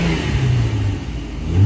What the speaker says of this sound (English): The car's actually got a really good sound to it. It's not like a super raspy like you're used to from a V6.